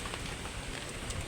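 Rain falls steadily, a close, dense patter on a surface that continues evenly throughout, with no voices.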